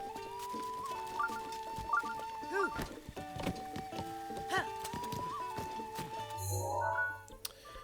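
A horse in Zelda: Breath of the Wild clip-clops along at a steady riding gait, hoofbeats mixed with game music tones, a whinny-like flourish and a soft thump near the end.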